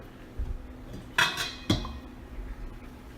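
A metal lid is set onto a cooking pot of water near a rolling boil, giving two bright clanks in quick succession over a soft background hum.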